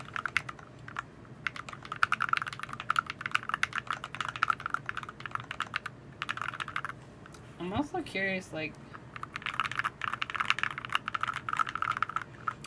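Typing on a Boardsource Lulu split mechanical keyboard with a polycarbonate bottom, dense rapid deep keystrokes close up, with a short pause for brief talking in the middle before the typing resumes.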